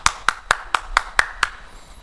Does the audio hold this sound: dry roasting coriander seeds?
no